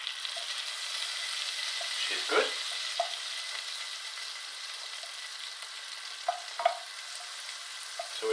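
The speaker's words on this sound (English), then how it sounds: "So that's starting to sizzle away now" Onions and potatoes sizzle in a hot pan with a soft, steady frying hiss and a few brief louder crackles, while a person talks now and then.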